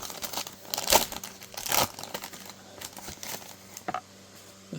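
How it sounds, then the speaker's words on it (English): Wrapped pack of 1990 pre-rookie baseball cards being torn open, with crisp crinkling and ripping bursts followed by softer rustles and a few light crackles, close by and without talk. "I thought we'd open a pack of the 1990 pre-rookie baseball cards"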